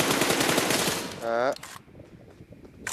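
Rapid bursts of video game gunfire, loud and dense for the first second and a half, then a quieter stretch with scattered shots and effects.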